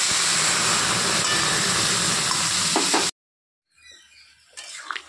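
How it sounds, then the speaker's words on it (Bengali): Lafa greens poured into hot, reddened oil give a loud, steady broadband sizzle and hiss for about three seconds, then cut to near silence before faint frying noise returns. "এটা লাল হয়ে গেছে, তখন আমি শাকগুলোকে ঢেলে দেব।"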